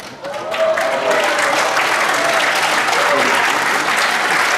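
An audience breaks into loud, sustained applause to welcome violinist Zhang Shaobo on stage, a dense close wash of clapping with faint crowd murmur throughout.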